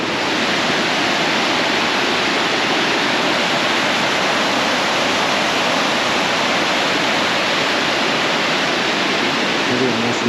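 Gooseberry Falls in a Minnesota state park pours in a steady, loud, broadband roar of falling water heard from a nearby bridge, continuous and unbroken throughout.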